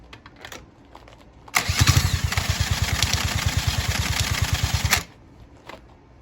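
A chopper motorcycle engine cranks and catches, running with a rapid, steady loud chug for about three seconds before cutting out and stalling, with quiet mechanical noises before and after.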